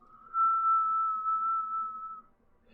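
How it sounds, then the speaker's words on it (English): A lone steady whistle from a train far off in the game Dull Grey, one long sustained tone lasting about two seconds before fading, faint and distant with no talk. "A train whistles in the distance."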